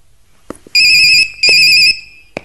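Mobile phone ringtone in an Indian film: two loud electronic ringing bursts, each about half a second long, with faint clicks before and after.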